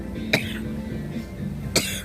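A person coughs twice, two sharp close bursts over a low background hum and faint music.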